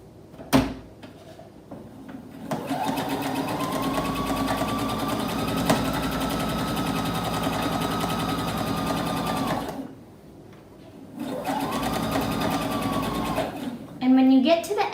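A sewing machine stitches the seam of a fabric face covering in two long bursts of steady whirring, separated by a short pause. Clicks and handling noises come before and after the bursts.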